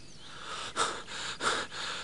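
Two short, breathy gasps of heavy panting from a cat character at the end of a race, spaced about a second apart and close up, voiced by a performer imitating exhausted breathing.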